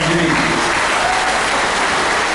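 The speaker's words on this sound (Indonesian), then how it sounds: "Itu tepuk tangan untuk 3 pilar" A Madiun regency gathering gives a round of applause for the three pillars, thick continuous clapping from a large crowd, loud and uniform across the moment.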